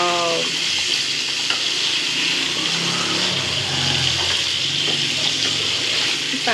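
KFC-style chicken frying in oil in a small pan, a steady close hiss and crackle of sizzling with occasional bubbling pops throughout, no voices.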